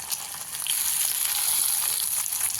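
Tomatoes go into a pan of onion-based masala frying in oil for a dry chicken dish, giving a steady, close, continuous sizzle with a bright hissing texture throughout and no talking.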